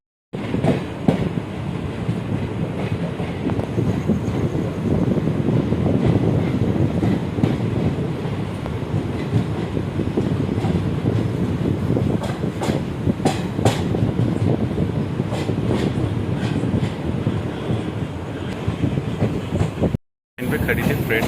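Madurai–Chandigarh superfast express rumbling through a station at night, a loud continuous roar of wheels and carriages with faint clickety-clack and wind buffeting, steady throughout.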